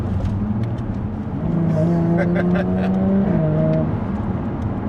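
A Jaguar F-Type stock exhaust revs loudly and steadily up and down in pitch, close by, with a voice talking over the engine note.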